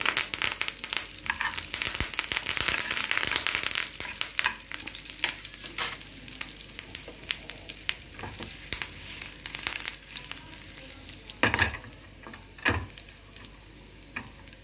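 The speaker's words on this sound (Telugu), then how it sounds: "శనగపప్పు, జీలకర్ర, అన్నీ వేసి వేగనివ్వండి" Chana dal, urad dal and cumin seeds sizzle in hot oil as a tempering for a preserved jujube pickle, with steady crackling, intermittent stirring scrapes and a couple of louder clanks near the end, no voices.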